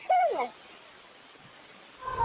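A raven mimics a human sneeze with one loud, sharp, sneeze-like burst at the start, followed by quiet background and a faint call at the end.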